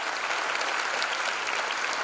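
A dense, even burst of applause fills a hall at a law school freshers' induction programme, a large crowd clapping continuously for about two seconds.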